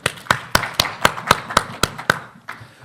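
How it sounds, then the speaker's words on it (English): Hand claps at a podcast recording at a live event, about nine sharp, evenly spaced claps that sound like one or two people clapping close by rather than a full crowd, then stopping. "Round of applause, guys."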